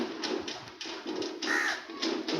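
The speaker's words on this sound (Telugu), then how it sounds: "కాకి కూడా కావు కావు అంటుంది" A crow caws repeatedly outdoors under shady coconut trees, with several close, clear calls in irregular succession against a steady background hiss.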